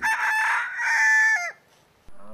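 A rooster crows once, loud and close, a long rising-and-falling call ending abruptly, followed by a brief quiet.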